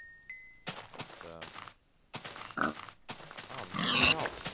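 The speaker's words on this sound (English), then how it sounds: "Oh man, they're all fat pigs." Fat pigs in the Minecraft video game give several short, nasal grunts in separate bursts, with a bright chime ringing out near the end.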